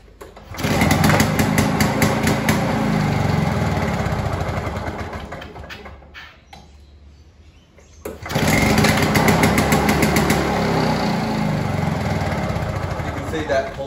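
A restored Victa 2-stroke Commando lawnmower engine runs loud and close with a buzzy, rapid firing rhythm, cuts out briefly for a couple of seconds, then roars back up and keeps running.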